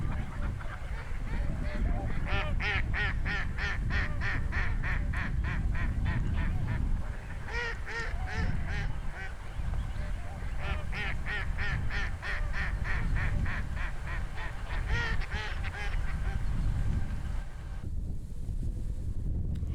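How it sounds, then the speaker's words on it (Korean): A flock of migratory birds, likely geese or ducks, calls over wide reed beds at the southern tidal flats of Sihwa Lake, sending repeated honking bursts in clustered waves against steady wind noise. "드넓은 갈대숲 위를 물이 지어나는 철새들의 군무가 장관이다"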